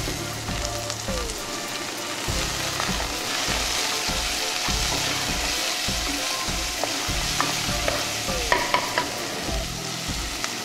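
Onions and bell peppers frying in a pan, a continuous dense sizzle with repeated rhythmic scraping and stirring strokes, close and fairly loud, no talking.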